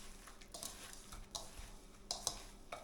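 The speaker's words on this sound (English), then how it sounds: "I'm just going to start mixing with my hand a little bit. No spoons, just my hands." Bare hands knead a meatball mixture of ground meat, breadcrumbs and egg in a bowl, giving faint, close, squelchy bursts of mashing and stirring at an irregular rhythm.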